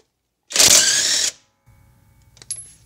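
An Alloyman cordless brushless impact wrench spinning in reverse with no load gives one short, loud whirring burst, then stops, followed by quieter mechanical clicks and handling noise.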